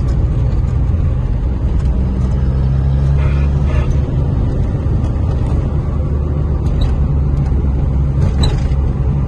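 A Peugeot 205 drives over a rough, badly surfaced road at around 40 km/h, a loud constant rumble of engine and tyres with rattling road noise throughout and no pauses.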